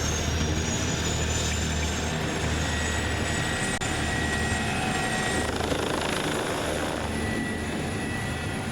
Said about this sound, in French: c'est le moyen le plus rapide, l'hélicoptère